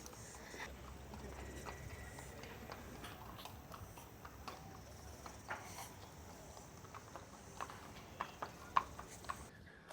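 Horses walking down a long path to Curramore Stud during a bloodstock sale, hooves clip-clopping in an irregular, steady patter at moderate distance with a few sharper, louder strikes near the end, over outdoor ambience.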